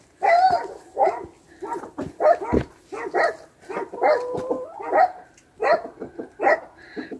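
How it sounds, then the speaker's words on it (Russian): Several dogs bark repeatedly at someone walking past on a nearby street, a run of sharp, fairly close barks and yips with brief gaps, some overlapping, heard alone with no talk. "Гавкают девки. Им развлечение тоже. Облаять кого-нибудь."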